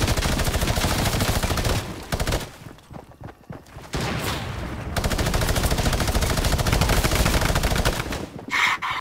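A minigun fires in Fortnite during a squads match in Weeping Woods, a dense, rapid stream of gunfire in long loud bursts with brief pauses between them.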